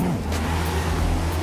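Race cars in a video game, a Mark IV Supra and an RX-7 among them, accelerate away together in a loud, steady engine drone with a low rumble that holds throughout.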